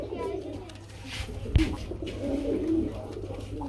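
Bombay pigeons coo at a pigeon farm, soft low cooing amid farm bustle with a sharp knock in the middle and voices nearby.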